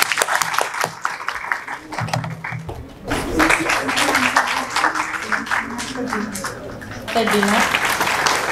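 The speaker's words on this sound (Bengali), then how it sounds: "হাততালি দেই প্লিজ।" An audience at an award ceremony for a handwritten-letter competition breaks into sustained applause, a dense wash of clapping that swells after a brief pause, with a voice speaking over it at the start.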